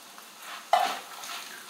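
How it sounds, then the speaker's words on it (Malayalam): Grated coconut roasts in a pan for Kerala sambar, a short burst of stirring and scraping over a soft sizzle, near and brief. "നാളികേരം ഒരു ബ്രൗൺ കളർ ആവണം വരെ നന്നായിട്ടൊന്ന് ഇനി വറുത്തെടുക്കണം"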